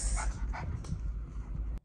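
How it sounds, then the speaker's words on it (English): A new puppy yips and whimpers close by, a few short, high, broken yelps and whines over a steady low rumble of room noise. "Guys, we got a new puppy!"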